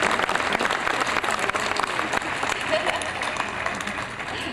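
Audience at a senior class gathering applauds steadily and densely, a full wash of clapping that holds strong throughout with scattered voices mixed in.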